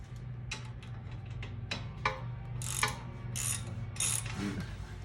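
Ratchet wrench with a 15 mm socket loosening a control arm bolt on a 2011-2015 Chevrolet Cruze, giving bursts of close, crisp clicking ratchet strokes over a steady low hum.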